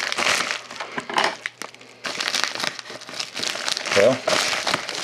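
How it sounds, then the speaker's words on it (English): Crinkling and tearing of packaging as a trading card care package is ripped open, bursts of crackly rustling with short pauses, close up, with a voice speaking alongside. "So I'm gonna go ahead and rip into it here."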